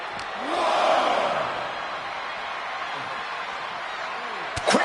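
A Canadian crowd in the WWE 2K26 wrestling video game roars and jeers at Shawn Michaels during a Bret Hart match, a broad swelling wash of crowd noise that ends in a sharp slam.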